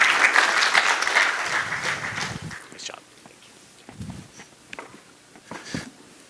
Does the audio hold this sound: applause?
yes